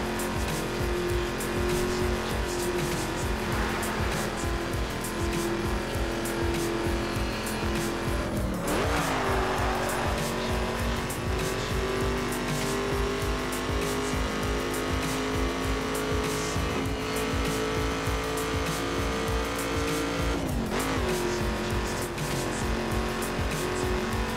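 A car racing in The Crew video game, its engine droning loudly and steadily throughout with a couple of tire squeals and brief skids along the way.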